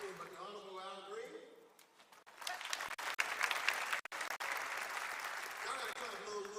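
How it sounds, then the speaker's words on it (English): Audience applause at a university president's investiture ceremony, broad steady clapping filling the hall after an announcement, with voices briefly heard at the start before the clapping swells and holds. "Y'all got to clap a little bit loud for Congressman Green."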